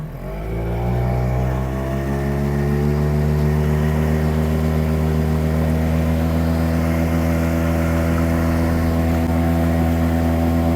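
An outboard boat motor on a pond starts up and settles into a steady, loud, close running drone with a strong low hum, holding even for about ten seconds with no voices.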